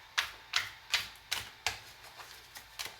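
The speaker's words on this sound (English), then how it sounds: "All right, 2 more slide shuffles" A series of crisp slide shuffles of tarot cards, about eight swipes in a steady rhythm, close and clear with no talking.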